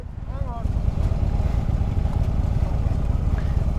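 A Harley-Davidson Road Glide and a Kawasaki Vulcan 900 rumble close by with a steady, loud low engine drone. A brief voice is audible near the start.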